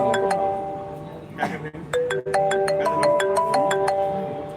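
An electronic phone ringtone plays a bright, repeating pattern of chiming tones, steady and fairly loud against a background murmur, during a live battery lottery draw.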